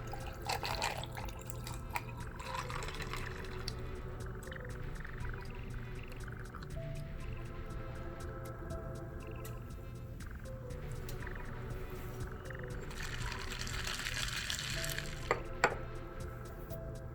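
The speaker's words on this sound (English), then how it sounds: "I'm going to pour water into the beaker" Water is poured into a beaker of ice, with faint trickling, dripping and small clinks, close and quiet, throughout a steady low hum.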